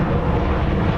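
Airliner arriving at DFW on a flight from Los Cabos, a loud, dense, steady engine roar filling the whole moment without a break.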